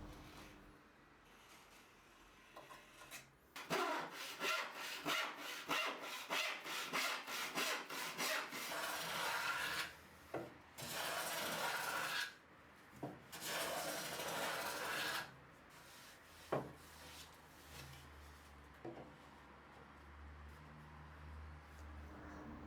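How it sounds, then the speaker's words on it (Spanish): Wooden boards for a traditional tool chest are hand sawn and planed, with rapid rhythmic saw strokes building into long sustained rasping passes, then scattered scrapes and knocks nearby, loud and close with no talking. "Los corto y los cepillo hasta que este extremo quede perfectamente escuadrado."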